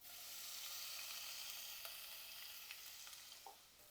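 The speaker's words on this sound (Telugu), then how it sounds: "గార్లిక్ పీసెస్ వేస్తున్నాను, కొంచెం దూరగా వేగాలండి." Garlic pieces fry in hot oil in a pan for palak paneer, giving a steady, bright sizzle with a few faint clicks of stirring near the end.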